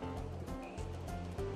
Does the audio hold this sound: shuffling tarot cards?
no